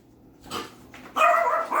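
A dog gives a couple of short, sharp yips and barks, fairly close, with brief quiet gaps between them.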